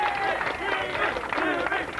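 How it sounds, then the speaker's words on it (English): Crowd cheering and applauding after a strike at a bowling tournament, a continuous dense roar of many voices and claps across two seconds, with no clear speech on top. "And the cheer goes up"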